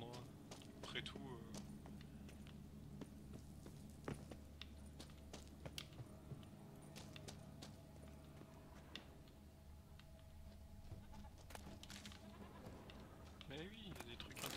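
Faint, quiet goat bleats from The Witcher 3: Wild Hunt video game rise over a low, steady ambient background.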